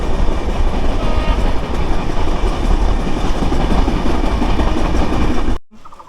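The Ekota Express passenger train rolls along the rails between Parbatipur and Pirganj in Bangladesh, a loud, close, continuous rumble with clattering wheels that cuts out abruptly near the end.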